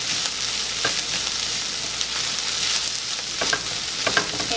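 Ground taco beef mixture seasoned with salt and pepper is stirred in a hot pan, a steady close sizzle broken by soft scraping strokes from the spoon, with no talking.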